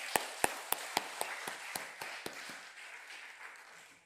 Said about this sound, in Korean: 믿으시면 하나님께 영광의 박수 올려드립니다.